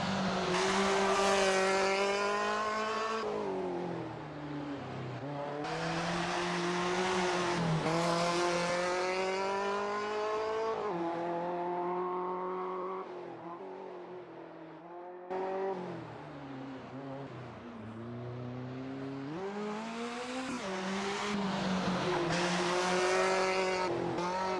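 Race car driven on rough tarmac in the Assetto Corsa driving game. The engine climbs through repeated revving pulls with gear changes, loud and close, easing off and then building again, with occasional tire squeal.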